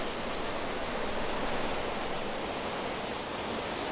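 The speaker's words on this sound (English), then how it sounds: "Just very tranquil, the falling of water." Water falls steadily in a small stream in woodland wetlands, a continuous, even rushing wash close by with no pauses or voices.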